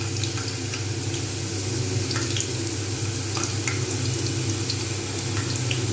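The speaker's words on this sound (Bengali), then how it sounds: "কড়াতে দিয়ে দিয়েছি সাদা তেল এবার আমি আলুগুলোকে ভাজবো" Potatoes fry in white oil in a wok for crispy aloo bhaja, a steady close sizzle with faint scattered crackles and occasional light scrapes, no voices.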